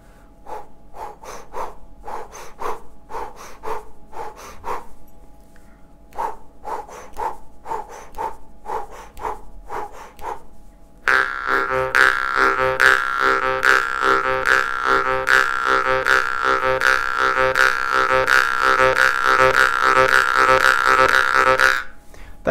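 Jaw harp played in the horse rhythm with a double exhale: a twanging, galloping pattern of short plucks in repeating groups, then a denser, brighter buzzing continuous section, close and solo.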